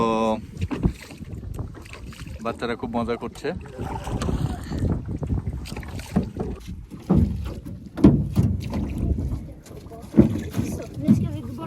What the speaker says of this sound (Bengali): এখানে পিচিরা নৌকা চালাচ্ছে